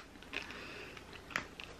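Sour crunchy crawlers gummy candy being chewed close up, a few soft bites and squishy crunches spread over a couple of seconds, no talking.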